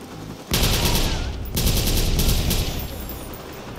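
Automatic gunfire in the video game Watch Dogs, two loud sustained bursts close up, the first starting half a second in and the second near the middle, trailing off toward the end.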